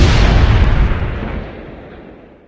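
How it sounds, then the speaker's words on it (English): Warp core blowing up as a sound effect: a single loud, deep explosion boom that rumbles and fades out over a couple of seconds. "tamper with the warp core, and, everything go kaboom"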